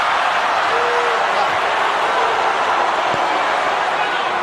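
Boxing arena crowd at the Pacquiao vs Rios fight, a steady dense roar of cheering that fills the whole clip at high level, with no distinct pauses.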